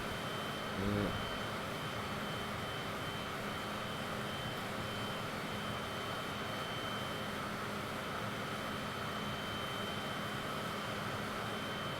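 Steady jet engine drone of an airliner in Microsoft Flight Simulator 2020, a continuous broadband hum with a faint tonal whine holding level throughout, no voices.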